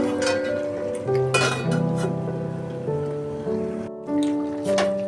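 A metal lid set back on a pot of chicken curry makes bright clinks and ringing clanks, several close metallic knocks with a lingering resonant tone, and no voices.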